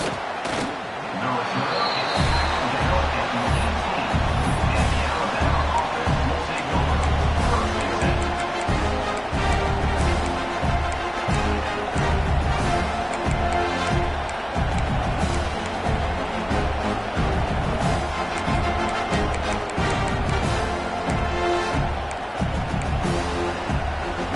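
A steady, dense stadium crowd roar fills a college football video game broadcast at the opening kickoff, loud and continuous throughout, with rhythmic thumps and swells beneath it.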